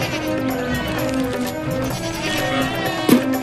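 Goat bleating in a Hindi cartoon story about a stolen goat, a steady nasal bleat heard up close over background music, with a brief sharper sound near the end.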